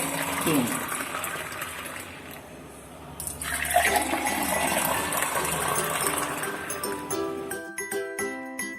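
Freshly made passion fruit juice is poured in a gushing, splashing stream that runs for several seconds. It ends in light clinking and tinkling at the close, with faint background noise throughout.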